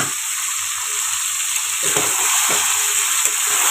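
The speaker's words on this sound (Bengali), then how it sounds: "আমি একটুখানি চিকেনটা না ভেজে নিই" Marinated chicken pieces fry in a hot pan with a steady, close sizzle, broken by a few sharper crackles and stirring scrapes toward the end; no voices.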